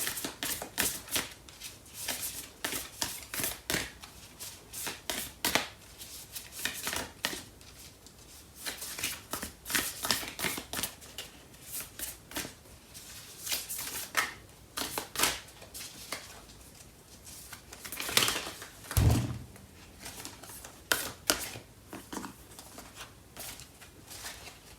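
Tarot cards shuffled by hand in repeated riffling bursts, close and fairly quiet, with brief pauses between bursts and one sharp knock near the end.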